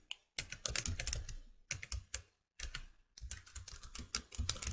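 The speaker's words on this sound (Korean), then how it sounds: "이 상태로 텍스트를 입력하시고 이 부분에서 엔터를 눌러서 하나를 더 추가하고" Continuous typing on a computer keyboard while entering text into a presentation, dense key clatter in three bursts separated by brief pauses, close and fairly loud.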